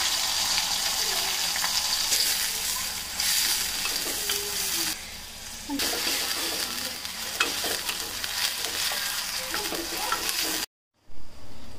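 Chopped onions sauté with ginger garlic paste in a pan for a mutton onion curry, giving a continuous close sizzle with scraping stir strokes throughout that cuts out abruptly near the end.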